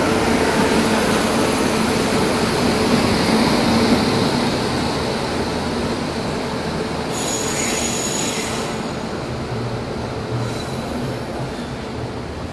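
The Konkan Kanya Express pulls into platform 1 at Madgaon Junction, its wheels squealing steadily and loudly against the rails with rumbling carriages, then easing off as a brief hiss and high whine rise near the end.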